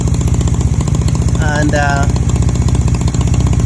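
Honda CB250 Nighthawk motorcycle engine running steadily nearby with an exhaust leak, a continuous rough pulsing drone that persists throughout while someone talks over it.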